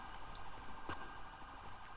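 A police car siren in the GTA RP video game wails steadily under a low rumble, fairly faint and continuous across the moment.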